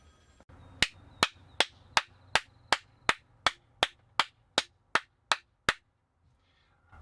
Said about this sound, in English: That was pretty loud clapping.